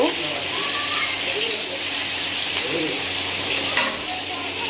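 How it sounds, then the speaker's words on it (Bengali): Garlic paste fries in a pan, giving a steady, close sizzle with soft stirring movements and a brief louder scrape partway through. "একটু রসুন বাটা দিয়ে দিলাম দিয়ে ভালো করে নেড়ে চেড়ে নেব"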